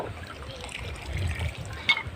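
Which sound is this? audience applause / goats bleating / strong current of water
strong current of water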